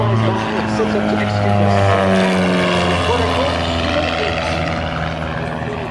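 An aerobatic airplane at an airshow flying past at about 180 miles an hour, a loud, steady propeller-engine drone with shifting pitch as it passes, under an announcer's commentary.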